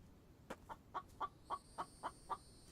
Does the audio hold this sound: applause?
no